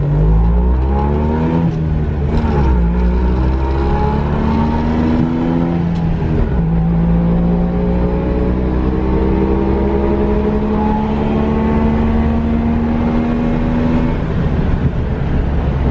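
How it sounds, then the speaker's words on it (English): A loud, roughly 60-year-old Saab engine rumbles and revs up close at an owners' convention, its exhaust crackling and popping steadily throughout with no talking. "it gives you that popcorn sound like that right there"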